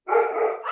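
A pet dog gives a single short bark, close and fairly loud, heard by itself with no talking over it.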